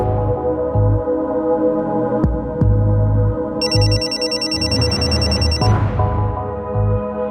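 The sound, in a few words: mobile phone ringing with an incoming call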